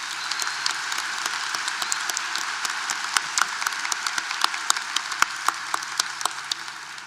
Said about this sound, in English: Let's give him one more big round of applause.